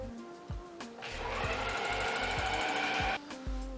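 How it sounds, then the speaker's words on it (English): A serger stitching a rolled edge runs in a loud, steady mechanical whir for about two seconds, framed by shorter clicks and start-stop bursts before and after. "I'm going to use my serger set to a rolled edge stitch"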